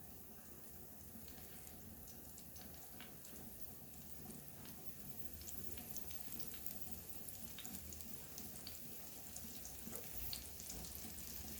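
Silver bar fish (karli) coated in rava fries in hot oil, a steady close crackling hiss scattered with sharp little pops throughout, with no voices.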